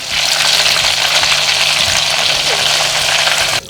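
Fish frying in a pan gives a loud, steady sizzle and crackle that runs without a break for the whole span, with no voices over it.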